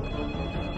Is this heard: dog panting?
no